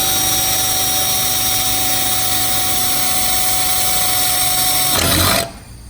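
A power drill with a 5/16 bit whines steadily and loudly for several seconds while drilling through a plastic coolant reservoir tank for a Ford F150, then bursts through with a brief surge before spinning down to near silence.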